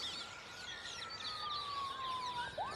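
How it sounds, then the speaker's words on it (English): A distant police siren wails and slowly falls in pitch over steady outdoor background noise in Glasgow, with faint birdsong above it. "we've got in the background like police sirens going on and motorbikes"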